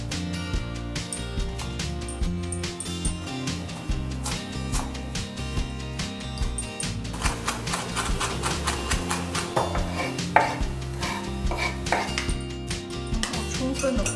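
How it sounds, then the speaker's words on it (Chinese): Fresh parsley being chopped with a knife on a board: rapid, evenly spaced tapping strikes that continue steadily throughout, set against a constant background of music. "然后再切一些新鲜的 parsley"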